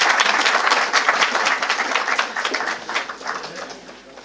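Audience applause at a book launch event, a steady crowd clapping that fills the room from start to finish and slowly fades toward the end.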